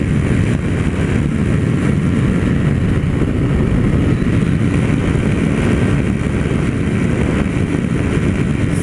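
A Yamaha Sahara 300 motorcycle accelerates in sixth gear down a hill, its engine droning steadily under heavy, constant wind rush at the helmet with no pauses.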